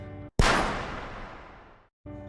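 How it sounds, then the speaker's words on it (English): A single sharp gunshot in an anime scene: sudden loud crack followed by a long fading reverberant tail, set between brief gaps of near silence. "you hear a gunshot"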